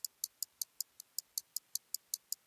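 Percussive taps made by pressing the top of a bottle, pitch-shifted lower, form thirteen crisp, evenly spaced clicks in a steady rhythm, quiet and alone against a near-silent background.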